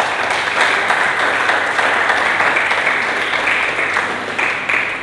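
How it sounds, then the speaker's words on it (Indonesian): Sustained applause from a church congregation, many hands clapping together in a full, even roar that holds steady throughout, with no speech over it. "Berikan tepuk tangan bagi Yesus."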